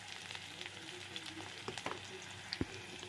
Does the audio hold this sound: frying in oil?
yes